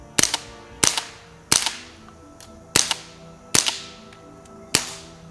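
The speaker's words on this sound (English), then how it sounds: "with the Subsonic, you're guaranteed to get that movie quiet sound that you often hear out of your 22" A suppressed .22 rimfire rifle fires subsonic rounds, six sharp, clipped cracks spaced roughly a second apart, each with a short decaying tail and fairly close, with no talking.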